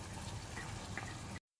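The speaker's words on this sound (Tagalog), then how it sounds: "Nilagyan ko na ng toyo." Soy sauce pours steadily into a pan of sotanghon glass noodles, a continuous close liquid gush lasting just over a second before cutting off abruptly, with no talking.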